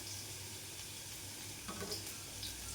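Garlic, fenugreek, curry leaves and dried chillies sizzle steadily in hot oil for a mango curry, a close, continuous crackling fry with no one talking.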